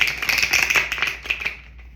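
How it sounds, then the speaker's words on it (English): Tarot or oracle cards being shuffled by hand, a close, quick run of papery riffles and snaps that thin out and stop near the end. "As soon as I started shuffling the cards"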